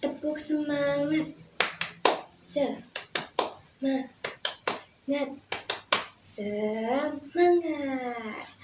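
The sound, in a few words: children's rhythmic spirit clap (tepuk semangat)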